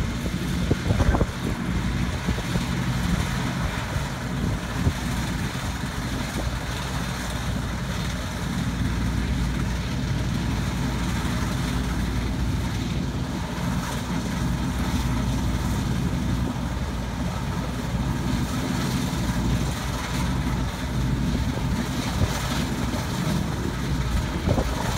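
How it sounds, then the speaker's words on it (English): An autonomous combine harvester drives itself down a plot at Cereals 2018, giving a continuous broad mechanical rumble and drone with steady machinery noise throughout, heard fairly close with no talk. "So this combine is now completely driving itself."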